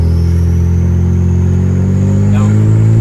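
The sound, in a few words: BMW 335i N54 upgraded turbo engine accelerating through gears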